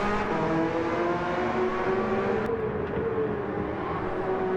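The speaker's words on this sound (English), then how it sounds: "Through the hairpin, smooth on the accelerator." A race car in a racing video game holds a steady, loud engine drone through a hairpin corner, its tone shifting slightly as it accelerates, heard alone without talk.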